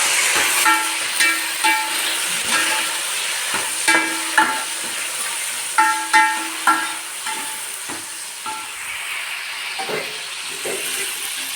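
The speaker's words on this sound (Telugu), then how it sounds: "పచ్చిమిరపకాయలు వేస్తున్నామండి టమాటాలు" Green chilies and tomatoes frying in hot oil with onions in a pan for bagara rice, a steady close sizzle broken by repeated utensil clinks and stirring scrapes.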